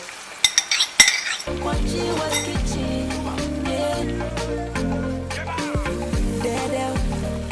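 A vegetable egg scramble with tomatoes cooks in a pan, with a few sharp utensil clinks at first, then continuous scraping and stirring over a low frying sizzle.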